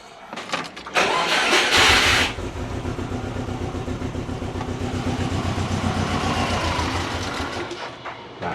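A Subaru car engine runs after an injector change, with a loud burst near the start settling into a steady, rhythmic idle that fades slightly toward the end.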